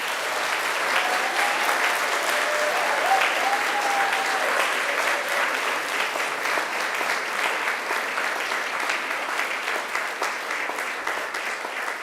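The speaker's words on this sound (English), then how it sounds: "give them a hearty round of applause." A large crowd applauds steadily and loudly at a Macquarie University graduation ceremony, dense clapping holding an even level with only slight tapering near the end.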